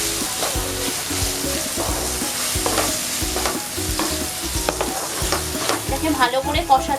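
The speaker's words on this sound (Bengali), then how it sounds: "কাশ্মীরি লঙ্কার গুঁড়ো দিচ্ছি, আর একটু জিরের গুঁড়ো দিলাম। এটাকে ভালো করে নেড়ে নেব।" Mushroom masala with Kashmiri chilli powder and cumin powder stirred in a pan, repeated scraping and knocking of a spoon against the pan in an uneven rhythm over a continuous frying sizzle, close by and without talk.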